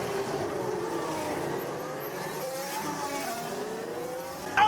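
Formula 1 race cars at the Abu Dhabi Grand Prix whine past at a distance, faint rising and falling engine tones overlapping steadily, with a brief louder bump at the end.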